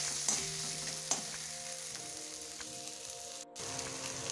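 Spice masala for Bengali kathla fish curry fries in a pan, a steady close sizzle with a few light clinks of stirring and a brief dip in the crackle near the end.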